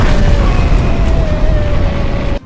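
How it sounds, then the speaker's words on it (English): A glove ability in the Roblox game Slap Royale sets off an explosion, a loud sustained rumbling blast with a faint tone running through it that cuts off abruptly near the end. "It also creates a little explosion"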